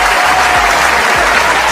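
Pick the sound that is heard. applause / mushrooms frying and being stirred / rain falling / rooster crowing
applause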